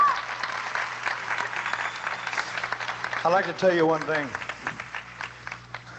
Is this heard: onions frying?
no